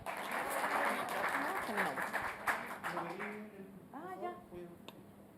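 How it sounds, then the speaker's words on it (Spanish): Brief applause from a university seminar audience welcoming a speaker, fading after a couple of seconds into a voice talking and some shuffling. "Un fuerte aplauso para Karen, por favor."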